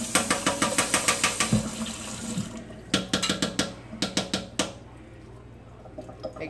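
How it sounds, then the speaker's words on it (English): Running tap water splashing in a sink, broken into rapid rhythmic bursts and pauses as a hand with a brush moves under the stream; no talking. "I'm letting the water run over the palm of my hand"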